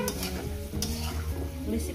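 Taro pieces fry in a pan, a close sizzle with scraping stir strokes and utensil clatter over the short stretch.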